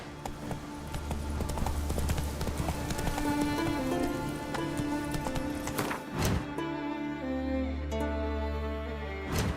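Roach the horse gallops in The Witcher 3, steady clip-clop hoofbeats running close and loud through the whole stretch, with game music and ambient sound beneath and a short break near the middle.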